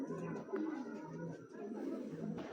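Black checker grizzle racing pigeons coo softly and repeatedly at close range while someone talks over them, faint overall.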